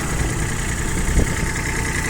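An ISEKI TU135 4WD tractor fitted with a 120 cm rotary tiller idles steadily up close, a smooth, even low drone with one brief bump partway through and no talk.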